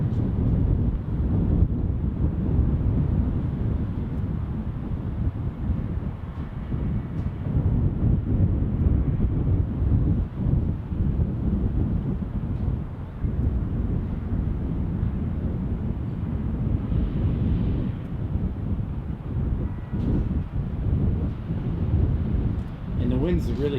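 Strong wind of about 20 knots buffets an outdoor microphone at a lakeside airfield, a steady loud low roar with gusty surges throughout, a voice talking now and then beneath it.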